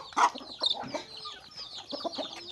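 Chickens cluck near a rice-field hut in the countryside, a few soft, irregular clucks and short calls rising over a quiet background.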